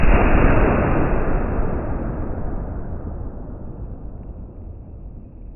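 A single powerful .450 Bushmaster rifle shot firing a 250-grain Hornady FTX bullet cracks loudly at the start, then its booming report rolls away and decays slowly over several seconds outdoors.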